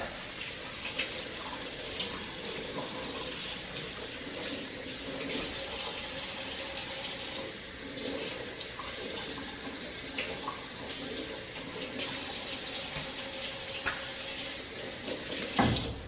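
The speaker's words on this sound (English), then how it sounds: "We have an automatic faucet." An automatic faucet runs a steady stream of water for rinsing, a continuous close hiss and splash at a sink that carries on throughout with small shifts in flow.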